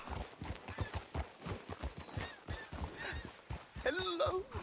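Steady clip-clop of horse hooves trotting along at a regular rhythm in the video game Red Dead Redemption 2, with a brief whinny near the end.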